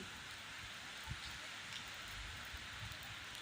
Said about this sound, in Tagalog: Lumakas pa yung ulan.